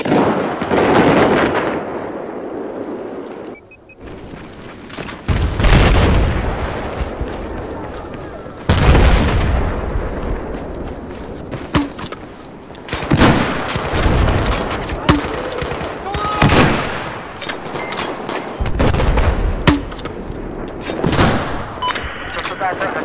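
Explosions and gunfire boom and crackle around a tank in a Battlefield 4 match, loud repeated blasts and shot bursts spread across a busy stretch with players talking over the action.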